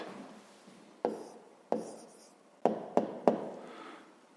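A pen writes numbers on paper during a fifth-grade math exercise: soft scratchy strokes broken by several sharp taps and clicks, close and quiet, with no one speaking.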